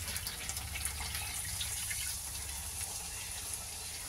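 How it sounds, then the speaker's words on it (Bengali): Water is poured into a pan of simmering paneer curry on the stove, a soft continuous gushing and sizzling splash under faint kitchen background. "এবার এর মধ্যে আমি জল দিয়ে দেবো।"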